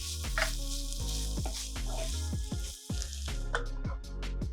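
Cabbage stews in a frying pan with a quiet, steady sizzle, heard faintly beneath recurring tonal sounds.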